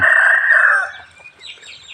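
A rooster crows loudly up close on Thai temple grounds, one long sustained call fading after about a second, followed by faint scattered clucking and rustling.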